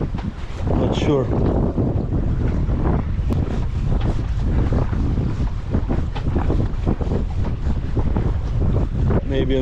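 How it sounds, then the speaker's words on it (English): Strong Bura wind buffets a small fishing boat at sea off Mali Losinj and Susak Island, Croatia, with loud continuous wind roar and microphone gusts, sloshing water throughout, and a voice speaking briefly near the start. "It's quite windy."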